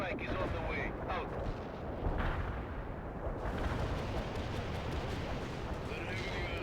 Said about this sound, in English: Heavy airstrike is on the way.